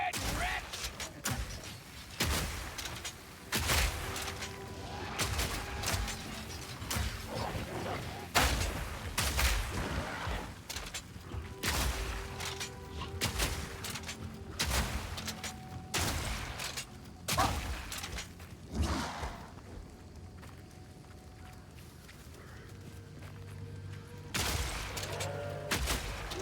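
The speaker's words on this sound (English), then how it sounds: "Just throw grenades at my feet." Grenades and other blasts go off again and again in the action game Path of Exile 2, loud booming thumps and crackling bursts layered over a droning game soundtrack for most of the stretch.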